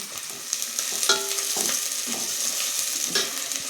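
Sliced onions and crushed green chilies sauté and sizzle in a hot pan while being stirred, a steady crackling fry broken by clinks and scrapes of a spoon.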